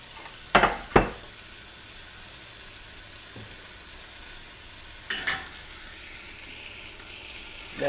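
Lamb fries in a pan, its faint sizzle punctuated by a few sharp clanks of a utensil against the pan as the meat is flipped, with beans cooking nearby.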